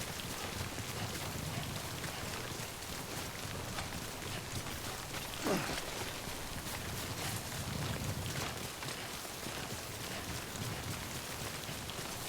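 Steady rain from the Death Stranding video game pours down continuously, a dense even hiss throughout with a brief brighter swell in the middle, no speech over it.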